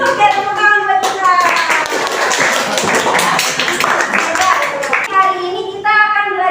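A class of children clapping hands together during a practice teaching lesson in a Jakarta classroom, a dense burst of claps lasting several seconds, with children's voices briefly before and after.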